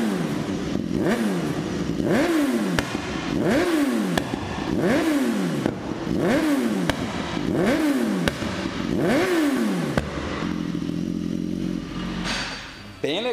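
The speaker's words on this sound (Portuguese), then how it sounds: "E esses estouros aqui ainda não é propriamente o efeito do freio motor, porque aqui ele está atuando, mas muito pouco, porque a moto está parada ali no dinamômetro" A motorcycle held stationary on a dynamometer revs up and down repeatedly in a steady cycle, with loud popping exhaust backfires crackling through each deceleration; the revving gives way to a rougher idle near the end.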